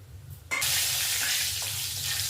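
Whole spices, cardamom pods, cloves, caraway, cinnamon and a bay leaf, drop into hot oil for a spicy egg masala gravy, setting off a sudden loud, steady sizzle that holds close and even to the end, alone.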